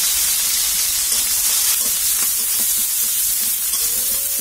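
Garlic sizzles and is stirred in hot oil along with cumin seeds, a steady dense hiss with faint utensil scrapes running throughout, close and fairly loud with no talking.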